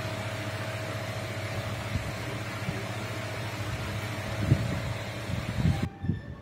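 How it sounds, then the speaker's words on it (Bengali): A T-shirt printing machine runs with a steady mechanical hum and faint whirring, a few soft knocks near the end before it cuts out. "আর এটা হচ্ছে প্রিন্টিং মেশিন।"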